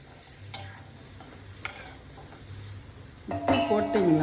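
Buttermilk is stirred into a pot that is sizzling on the stove, with a few sharp clinks of a utensil against the metal and then a louder rush of frying and bubbling toward the end.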